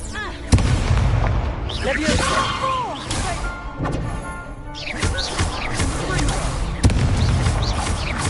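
Expulso explosion spells blasting in Hogwarts Legacy, several heavy booming impacts with crashing debris spread over a few seconds, loud and close amid game sound effects and a speaking voice.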